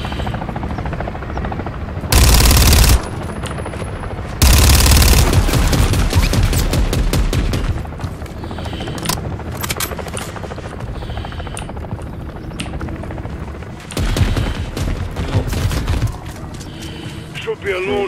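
An armored helicopter hovers overhead in Call of Duty: Modern Warfare III, its rotors thudding loudly and steadily while bursts of machine-gun fire rattle through the scene, with voices talking over parts of it.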